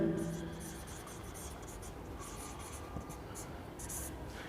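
Chalk or pen scratching out a written solution to a Lami's theorem physics problem, a soft steady run of short strokes and taps, faint and close, with a brief voice near the start.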